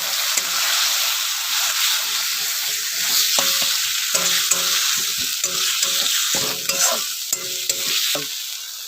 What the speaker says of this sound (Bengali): মশলা কষিয়ে নেব।